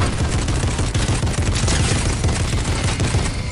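A sustained, dense stream of rapid gunfire in Fortnite, loud and close, with shots rattling continuously without pause for a few seconds and no voices.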